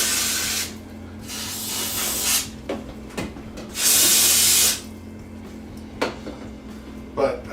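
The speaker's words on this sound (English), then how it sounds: "That's why I'm kind of spraying it kind of heavy." Degreaser sprayed heavily from a spray bottle onto a leaky Kawasaki Vulcan 1600 Classic motorcycle gas tank, several sharp hissing bursts of varying length, one long and loud, separated by quiet gaps and faint handling noises.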